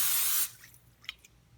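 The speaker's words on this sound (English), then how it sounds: "spray down the pan." Cooking spray hisses onto a pan in one short, sharp burst lasting under half a second, followed by a couple of faint clicks and then quiet.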